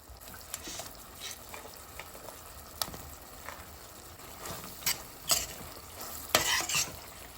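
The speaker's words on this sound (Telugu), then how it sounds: "ఆయిల్ బయటకు వచ్చే వరకు ఈ పెరుగు నేను ఫ్రై చేసుకుంటున్నాను" Yogurt for paneer 65 biryani fries with a soft, steady sizzle in a pan, broken by frequent scraping stirs and sharper spoon clinks that grow louder toward the end; no talking.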